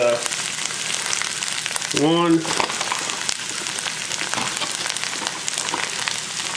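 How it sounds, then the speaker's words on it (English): Tomato paste and ground beef sizzle loudly and steadily in a pan, a dense, close crackling hiss that runs throughout, with a brief voice rising over it about a third of the way in. "Our tomato paste is doing its job and making some deliciousness in our pan."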